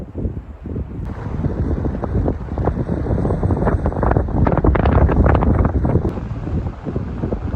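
Strong wind buffets the microphone continuously at a backcountry campsite in Jasper, with rumbling gusts swelling and easing throughout; no voices.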